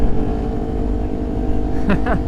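Loud, steady engine drone from a group of about twelve motorcycles, including a Kawasaki Ninja 400, close by on a highway, humming continuously with a brief rising whine near the end.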